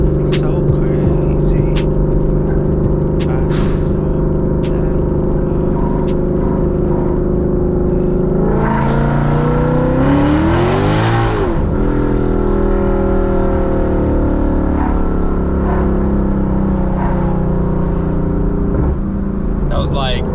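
A Ford Mustang GT fitted with a Whipple Gen 5 3.0L supercharger accelerates up a hill at part throttle, its loud engine note climbing and sweeping in pitch as it pulls, then easing off and building again.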